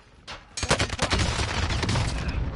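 Rapid automatic gunfire bursts out in Call of Duty, a dense fusillade of loud, close shots following a faint single crack, continuing as a sustained rattle.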